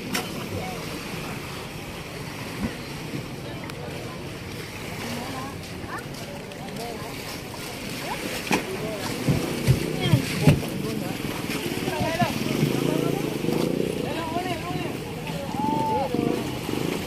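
A small fishing outrigger returning from open sea with a catch of tuna, arriving at the shore amid wind buffeting, lapping waves and engine drone, while several voices talk nearby.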